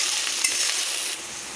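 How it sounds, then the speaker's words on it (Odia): Chopped onions stir-fried in hot oil for a fried egg dish, a steady close sizzle with a faint scrape of stirring, loudest early and easing slightly toward the end. "ପିଆଜ ନାଲି ହେଲା ପର୍ଯ୍ୟନ୍ତ ଘାଣ୍ଟି ନେବା।"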